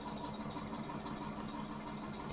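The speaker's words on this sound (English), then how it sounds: "we shall turn the engine off and wait" A tractor engine idles steadily before shutdown during a peanut harvest, a low, even rumble with a faint vibration that holds constant and fairly quiet throughout.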